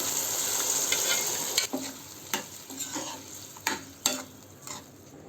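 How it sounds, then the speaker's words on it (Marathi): A spice mixture with cooked dal for sambar is stirred and sautéed in a pan, soft sizzling under repeated scraping and tapping strokes of a spoon, close and fairly quiet. "हे मिश्रण दोन ते तीन मिनटं चांगलं परतवून घ्या"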